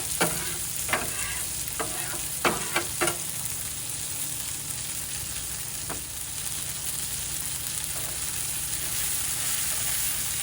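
Thin smashed burger patties sear on a hot camp griddle with a constant sizzle, broken by a few sharp scraping clicks of a spatula early on and one more midway.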